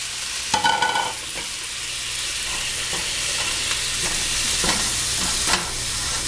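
Marsala wine and water sizzle and bubble in a hot skillet, a steady frying hiss broken by a few sharp crackles and clinks of a utensil.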